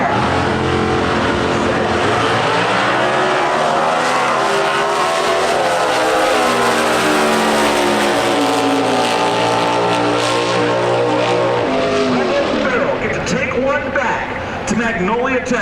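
A 1969 Camaro Super Street machine and a rival car race in a drag final at the NHRA Summit Nationals, engines screaming in long rising gear sweeps, loud and sustained, under an announcer's continuous commentary.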